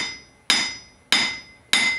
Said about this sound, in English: Swinging from up here and throwing the hammer down and using the bounce to bring it back up to the top,